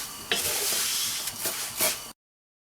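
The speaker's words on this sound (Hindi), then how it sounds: "साथ ही हमने इसमें सेवियाँ डाल लेनी है ताकि हम इसको अच्छी तरह इसको भून लेते हैं" Vermicelli roasting in ghee with cardamom in a pan for sweet kheer, giving a soft, steady sizzle with a few scraping stirs, close and fairly quiet, ending abruptly.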